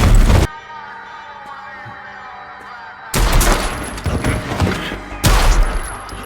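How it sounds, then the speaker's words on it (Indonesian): Loud bursts of gunfire ring out in two clusters, separated by a quieter stretch with a low droning background. "tembakan pistol biasa, maka perlu bagi Brian menggunakan senjata api untuk mengakhiri pertarungan ini."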